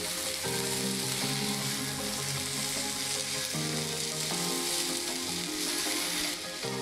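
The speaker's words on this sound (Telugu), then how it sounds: "1 టీ స్పూన్ ధనియా పౌడర్ వేసుకొని ఒకసారి కలుపుకుందాం." Okra frying with coriander powder and salt in a pan, a steady close sizzle with soft stirring scrapes throughout, no voices.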